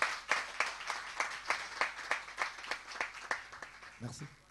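Rhythmic clapping from a small audience for a performer at a music show, about a dozen sharp claps in a steady beat, close and distinct, with a brief voice at the very end.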